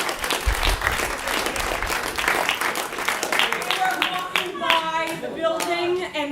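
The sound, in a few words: audience applause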